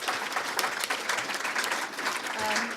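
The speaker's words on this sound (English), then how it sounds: "Clap for them." Audience applause for pub quiz winners at a PyData London 2017 conference, a dense burst of clapping from a crowd in a hall, steady and fairly close, with some voices mixed in.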